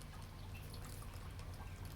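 A cup of water poured onto tablespoons of soil in a soil-type demonstration, giving a steady, close trickling and dribbling wash of liquid for the whole stretch with no talking.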